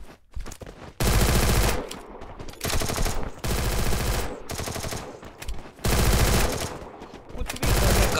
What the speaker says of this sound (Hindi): अभी क्यों गोलियां चला रहे हो?